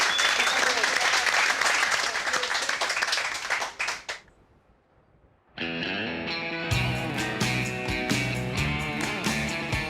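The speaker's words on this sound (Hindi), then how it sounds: "तालियां तालियां।" Loud, dense applause and clapping from a crowd fills the first four seconds, then fades into near silence before music begins.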